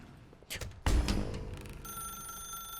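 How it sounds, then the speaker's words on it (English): A telephone rings in The Stanley Parable video game, a steady electronic ring that sets in after a dull thump and keeps going, clear and alone, with no one talking. "instead of answering the phone, if you come back here, you can unplug it"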